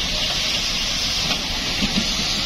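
Steam locomotive hauling the Steam Safari train between Lahore and Nankana Sahib, venting a loud, steady, broad hiss of steam that runs without a break.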